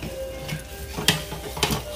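Lemon pepper chicken being turned in an air fryer basket, with two distinct close metallic clanks from utensils over a low steady hum.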